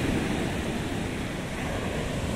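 Ocean waves break on the shore at Prado, Bahia, a continuous broad wash of surf mixed with wind noise on the microphone, with no voices.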